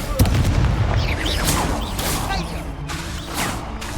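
Fiery Confringo blast spell explosions in the Hogwarts Legacy video game, booming and crackling impacts layered with whooshing effects, loud and continuous, with a voice shouting spell names throughout.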